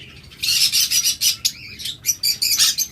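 A pair of opaline pet birds call nearby, a rapid series of loud, bright chirps and short squawks in uneven bursts, with no talking.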